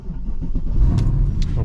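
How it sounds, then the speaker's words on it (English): A stage 3 Weistec-supercharged Mercedes CLK 63 AMG Black Series is started up, a brief key and starter clatter giving way to a loud, deep engine catch and idle, close by. "So now let's start the car."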